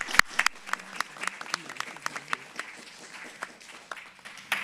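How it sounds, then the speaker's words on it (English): A library board meeting audience claps for Alexis Hunt: a sparse, uneven round of applause from a small group, individual claps distinct and moderately close, tapering off over several seconds. "So if we can give a round of applause to Alexis Hunt,"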